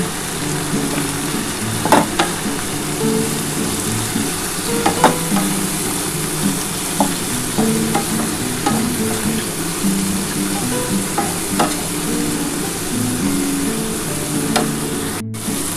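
Young yardlong beans and onion fry in a pan with a constant close sizzle, broken by repeated scraping and clicking as they are stirred.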